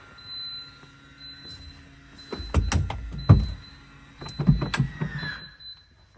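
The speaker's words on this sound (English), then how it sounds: "Let me show you the tow bar going up there." An electric tow bar on a 2025 Land Rover Defender 90 Obsidian Edition raises with a soft motor whine, then a few close mechanical clunks and knocks as it moves into place, heard alone.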